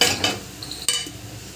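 A utensil scrapes and stirs through onions frying in oil with salt, turmeric and chili powder, soft sizzle beneath a few sharp clinks against the pan.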